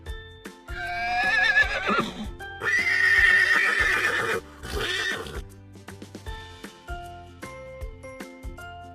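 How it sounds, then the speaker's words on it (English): A cartoon horse neighs in two long, loud whinnies, with clip-clop hooves and light jingles over bright background music. "Horse."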